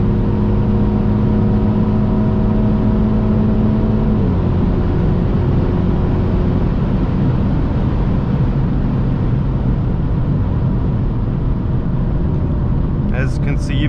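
A 2022 MINI Cooper JCW GP with a seven-speed dual clutch transmission pulls hard, a loud steady engine drone with a clear shift partway through as the pitch drops, then continues building under road and wind roar.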